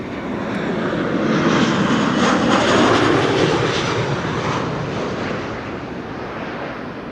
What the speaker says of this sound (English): Transavia flight 6936 arriving from Tirana